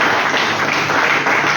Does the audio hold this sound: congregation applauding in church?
yes